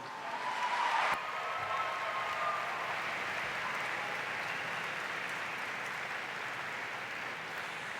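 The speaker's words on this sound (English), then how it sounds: "please give a warm round of applause for the star of the video you just saw, Mr. Rontel Batie." Audience applause welcoming Rontel Batie at an awards dinner, a steady wash of clapping from a large crowd that holds evenly throughout, with a faint whistle near the start.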